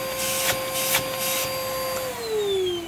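Worn vacuum cleaner with a completely plugged filter and a long extension wand, running steadily with a whining motor tone that drops slightly in pitch near the end, loud and close with no talk.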